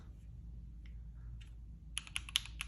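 Keys clatter on a Keychron Q6 mechanical keyboard with brown switches, a quick run of close, crisp typing strokes rising out of a quiet background hum near the end.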